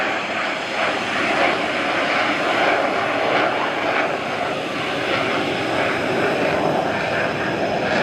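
A Saab Gripen jet aircraft flies past with a steady, loud engine roar filling the whole clip, broadband and continuous without any voices.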